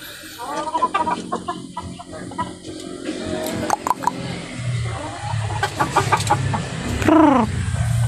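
Laying hens in a backyard clucking and squawking close by, with repeated calls over a steady outdoor background and faint other birds.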